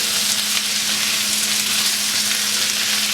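Indo-Chinese chili chicken mixed with ketchup sizzles steadily in a hot pan, a loud, constant hiss with no talking over it.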